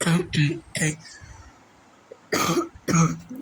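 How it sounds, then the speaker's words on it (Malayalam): A few short, harsh coughs in quick succession, close by, followed by a pause and two more loud coughs, in a Roblox game. "ചുമ."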